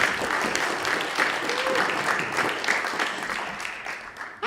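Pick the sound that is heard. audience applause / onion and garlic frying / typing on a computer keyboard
audience applause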